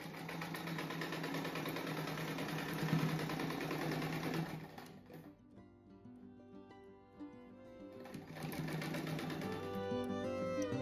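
A sewing machine runs in steady, continuous bursts while stitching a fabric rug, its motor whirring loudly up close; it pauses in the middle and then starts stitching again.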